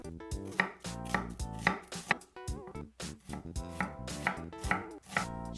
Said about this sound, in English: Cut 2 onions into small pieces.